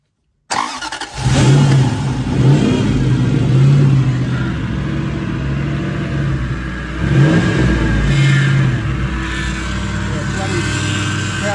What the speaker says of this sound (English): Right, here we go, the first official startup.